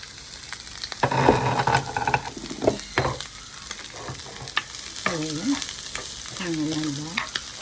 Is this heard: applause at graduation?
no